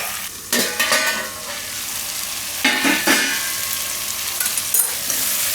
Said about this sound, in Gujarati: થોડીક વાર આને તેલમાં પાકવા દેવું.